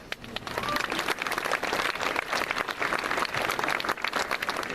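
Sustained applause from a large audience at a high school graduation ceremony, dense overlapping clapping that stays loud and steady throughout, with no talk over it.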